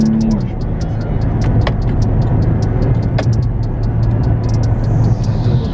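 A Porsche Panamera V6 cruising steadily, with a constant low engine and road drone throughout and a few faint ticks and clicks above it inside the cabin.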